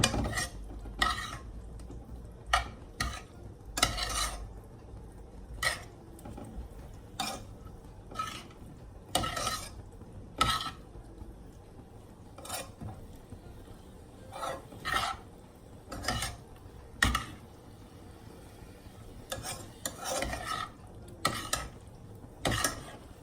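Food stirred in a pot during a Sunday dinner cook of fried chicken, yams and green beans: intermittent scraping and clinking of a utensil against the pot in irregular bursts, close by, with a faint sizzle beneath.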